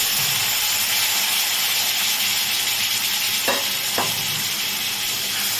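Ginger and cumin leaves go into hot oil that already holds cumin and bay leaves, setting off a loud, steady sizzle and hiss with a couple of sharp stirring scrapes near the end.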